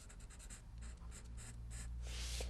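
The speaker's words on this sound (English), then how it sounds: "Allows you to color large areas all at once." A chisel-tip marker colors large areas on paper in a series of quick, soft scratchy strokes, close and quiet, with a denser rubbing pass near the end.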